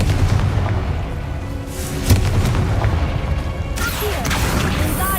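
Confringo blasting spell detonating in the video game Hogwarts Legacy, a loud booming explosion with a rumbling, crackling tail, followed by a second sharp impact blast near the end, all without talk.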